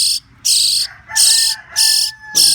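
A rooster crows nearby in an attic setting where baby birds are being rescued, giving several loud, piercing calls in quick succession with short gaps between, over a faint chirping of insects.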